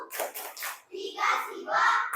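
Children clap hands together during a Tepuk Trimurti clap chant in a classroom, with a few quick claps followed by children's voices chanting along, all close and fairly loud.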